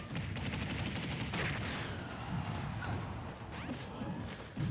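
Cannonball fire during a Super Smash Bros match: rapid booming impacts and crashes over busy game effects, loud and continuous, with a sharp burst near the end.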